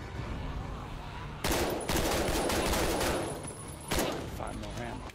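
Rapid assault rifle fire in The Walking Dead: Survival Instinct against a horde of walkers, with sustained dense bursts of shots, fairly close and loud, broken by a short pause before a second burst.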